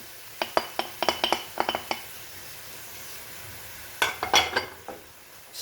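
Tomatoes tipped into a pan of about 200 grams of frying kidney beans give a quick run of sharp clinks and clatters, a pause, then a second burst of clinks and scrapes, close and fairly loud with no talk.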